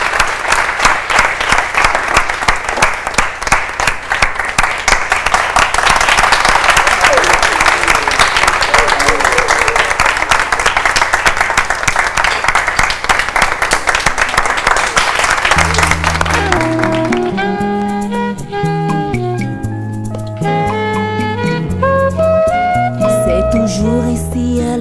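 A crowd claps loudly and steadily for a performer stepping onto the stage, the dense applause carrying for about fifteen seconds before fading under music that takes over.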